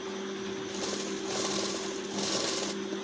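A sewing machine stitches a blouse sleeve to the front panel, its motor humming steadily up close while the needle runs in two faster surges of rapid stitching.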